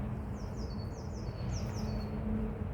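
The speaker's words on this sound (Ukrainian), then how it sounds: "Пташки поють." Repeated short descending bird calls ring out in pairs over a steady low rumble of wind or traffic, fairly faint and a little distant.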